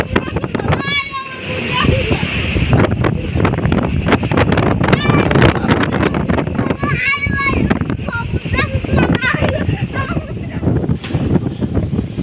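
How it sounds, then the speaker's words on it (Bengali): Strong evening cyclone wind in Dhaka, breaking trees and knocking over a bicycle, blasts steadily and loudly against the microphone, with adults and a child calling out through the roar. "এমন ঘূর্ণিঝড় শুরু হয়েছে, গাছপালা সব ভাঙিয়ে নিয়ে যেতেছে।"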